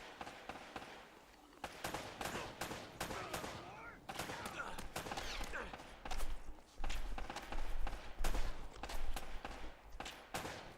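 Shots from Uncharted: Drake's Fortune Remastered come as sharp, repeated bangs in irregular clusters, loud and close, with rumbling impacts in the middle of the exchange.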